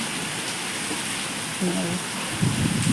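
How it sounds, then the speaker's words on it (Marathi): A sudden summer downpour comes down steadily with wind, a soft, even hiss of rain under nearby voices that grow louder toward the end. "अंधार पडला तरी पण पाऊस पडतो आमच्याकडे"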